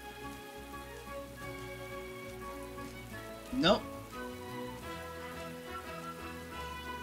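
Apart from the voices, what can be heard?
rain falling in a video game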